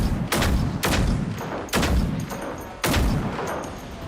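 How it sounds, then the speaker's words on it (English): Robot ammunition cooking off in the video game Generation Zero, heard as four heavy, booming bursts in uneven rhythm, each ringing out loud and close before the next. "You could shoot a robot, have its ammo cook off"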